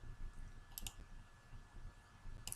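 A computer mouse clicks quietly in a near-silent room while Power Query Editor is in use. There are two quick pairs of clicks, one near the start and one at the end.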